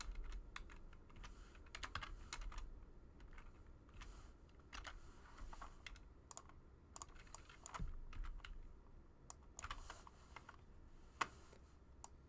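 Steady typing on a computer keyboard, entering a calculus function into Desmos: a quiet run of uneven key clicks with a few sharper taps, all close up and with no one speaking.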